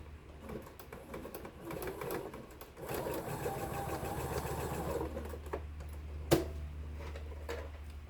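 A sewing machine with a quarter-inch flanged foot runs steadily through quilting fabric, a soft, even mechanical whir close by, with one sharp click near the end and no talking.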